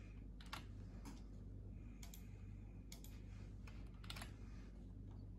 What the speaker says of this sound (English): You're going to type in your document number.